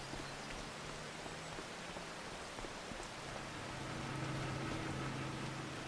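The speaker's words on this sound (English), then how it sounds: "A little bit of rain." Rain falls in Farming Simulator 25 on a tropical coastal farm map, a soft continuous patter of drops, faint and even, with a low hum underneath and no talking.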